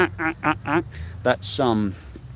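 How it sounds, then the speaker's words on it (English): Steady high-pitched cricket chirring runs throughout in a forest, with louder parrot calls and squawks breaking in over it at intervals. "That's mostly crickets, but you can hear there's a few parrots there"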